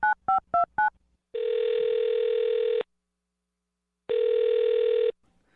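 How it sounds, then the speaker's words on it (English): A telephone number being dialed, four quick touch-tone beeps, followed by two long steady ringback tones separated by a pause. "I'll dial his phone number, get him on the phone"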